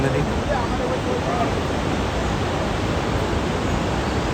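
A mountain river near Yamunotri temple, the source of the Yamuna, pours down from the hills in a loud, unbroken rushing roar close by, with no pauses.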